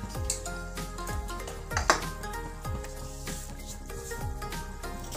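Pieces of batter drop into hot oil and fry, giving a steady busy sizzle with bubbling crackle throughout, plus several soft kitchen clatters and one sharper clink near the middle, with no talking.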